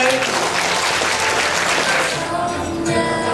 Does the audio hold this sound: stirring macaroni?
no